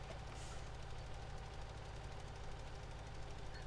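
A tractor engine idles steadily in Farming Simulator 17, a low, even rumble with a faint knocking pulse, quiet and unbroken throughout.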